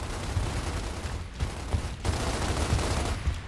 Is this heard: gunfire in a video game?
yes